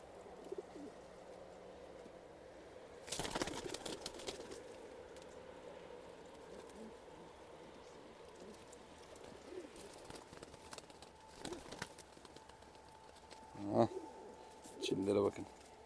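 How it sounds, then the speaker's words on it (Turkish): Pigeons or doves of fine breeds in a farm coop, giving soft cooing calls and occasional wing flaps, with a loud flutter burst early and a few louder close bird sounds near the end over steady background noise; someone speaks at times. "Şöyle kuşları bir görün."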